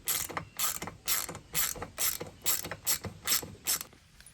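Rapid ratcheting clicks from a 13 mm socket wrench loosening a bolt on the lower unit of a 2007 Mercury EFI 25 hp four-stroke outboard, in about nine close, evenly spaced bursts with no talking.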